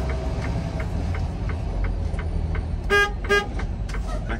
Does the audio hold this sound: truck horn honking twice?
yes